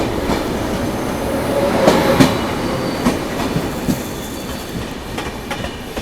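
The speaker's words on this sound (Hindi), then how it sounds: "लो, ये निकल रही है अभी बगल से महानगरी एक्सप्रेस।" The Mahanagari Express rolls slowly past on an adjacent loop line, heard from a neighbouring train as a continuous, fairly close clickety-clack of wheels on rail with faint squeals and no speech.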